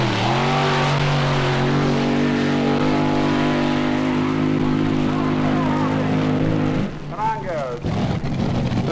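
Drag racing car launching off the starting line after the Christmas tree countdown: a loud, sustained engine roar builds and holds for several seconds, then cuts off abruptly into crowd noise and a quick rev.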